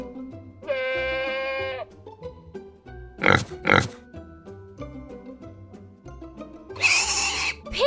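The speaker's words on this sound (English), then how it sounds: "Pig." A farm pig oinks in a few short, sharp grunting bursts mixed in with livestock bleats, all heard loudly and clearly over light background music.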